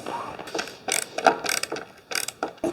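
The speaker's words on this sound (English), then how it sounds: "So I have my pre-drilled holes, so I know where to drive these screws in." Screws being driven into pre-drilled holes to fit hinges on hallway closet shoe storage, a series of short ratcheting, whirring bursts with pauses between them.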